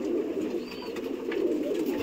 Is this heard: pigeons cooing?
yes